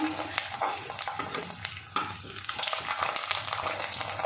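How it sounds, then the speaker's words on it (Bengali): A homemade sago papad puffs up in hot oil with a lively, crackling sizzle, and irregular scrapes and bursts from stirring break through the frying noise close by. "তেল গরম হয়ে গেছে, আমি ভেজে দেখিয়ে দিচ্ছি কেমন হয়। এই একটা পাঁপড় ছেড়ে দিলাম।"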